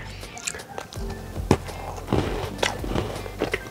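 Crunchy almond cookie being bitten and chewed up close, a few sharp crackling crunches in an irregular rhythm, fairly quiet.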